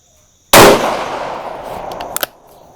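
A single .308 rifle shot fired at a range, using a handload of 168-grain Speer Gold Dot bullets over IMR 4064 powder: one sharp, loud crack followed by a decaying outdoor echo, with a couple of small clicks near the end.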